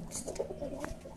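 A Saki teddy female pigeon gives a brief, low, soft coo, close by, over a murmur of background noise.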